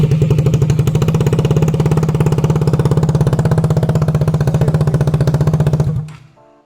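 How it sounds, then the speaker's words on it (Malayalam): KTM RC motorcycle engine running with a free-flow exhaust and no pipe fitted makes a loud, close, rapid thumping pulse that holds steady for about six seconds, then cuts off abruptly; no talking. "അത് പൈപ്പൊന്നും ഇടാതെ ഫ്രീ ഫ്ലോ ആയിട്ട് ഇട്ട് നോക്കുന്നത് ഒരു വൃത്തിയുടെ സൗണ്ട് ആവും എന്തായാലും"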